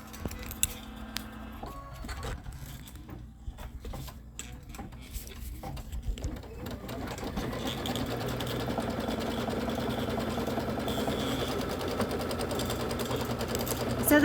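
An embroidery machine stitches a pieced star quilt block, its needle whirring in a rapid, even mechanical rhythm that starts after a few soft clicks and button presses and then runs steadily and close.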